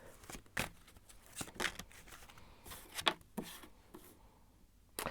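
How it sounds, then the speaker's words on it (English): Tarot cards being shuffled by hand during a card reading, a series of brisk riffling bursts with soft papery rubs and taps between them, close and fairly quiet, with no talking. "I'm going to shuffle a little bit more"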